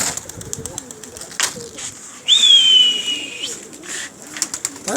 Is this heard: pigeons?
yes